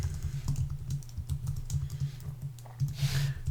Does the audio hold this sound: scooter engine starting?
no